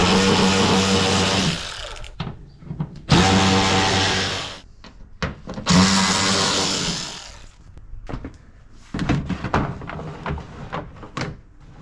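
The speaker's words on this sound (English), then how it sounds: "I'm just going to go ahead and use my electric ratchet and remove the hardware" An electric ratchet backs out Torx T30 bolts on a truck tailgate, with three long loud bursts of whirring and buzzing separated by quieter clicks and handling noises nearby.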